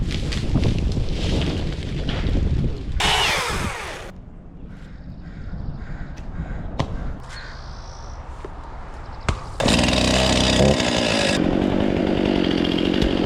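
A chainsaw makes cuts on a tree during a tree-removal job, loud bursts of engine revving come and go with quieter idling gaps between, and crows caw in the background.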